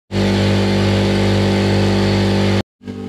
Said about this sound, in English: We'll have to fill the compressor up